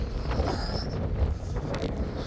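Wind blows steadily across the microphone on a hike by Skaha Lake near Penticton, British Columbia, a constant low rumbling buffet with brief gusts and no speech.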